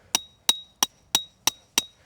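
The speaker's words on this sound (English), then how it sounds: "Hammer it in just a little bit, not all the way." A Snow Peak tarp stake is driven into the ground at a campsite with six sharp, evenly spaced metallic hammer strikes, close and ringing, with nothing else around them.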